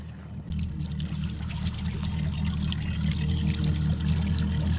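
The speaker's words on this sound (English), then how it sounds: "The boat is in the water." Water sloshing and trickling steadily around a fishing boat on a lake, with a low continuous rumble underneath, fairly close and even in level throughout.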